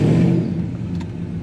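An LS-swapped 1996 Impala SS pulls away, its engine giving a low, close rumble that swells briefly then settles into a steadier drone, with no talking.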